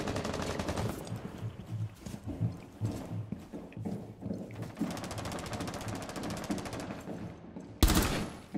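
Rapid gunfire in a Rainbow Six Siege match, with bursts of automatic shots, scattered single cracks and a loud close blast near the end.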